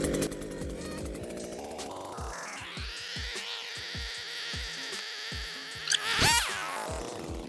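A Dnipro-M petrol grass trimmer engine warms up with throttle locked and choke closed, buzzing loudly and close with a rising pitch that then holds steady, briefly revving near the end.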